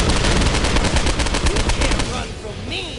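Dual machine guns firing in the video game Postal: Paradise Lost, a loud rapid continuous burst of gunfire that thins out near the end as other game sounds come in.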